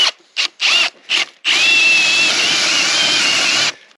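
A power drill revs in a few short bursts, then runs steadily for a couple of seconds, boring dowel holes into wood close by.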